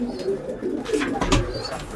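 Pigeons coo softly in a loft, low murmuring calls layered over faint background activity, fairly close and brief.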